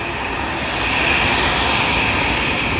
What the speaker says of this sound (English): We've got Virgin Atlantic over there from the United States.